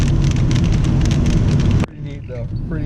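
Heavy monsoonal rain pours down in Big Bear Lake, California, a dense, loud hiss close by that cuts off abruptly, followed by quieter background sound and a voice speaking.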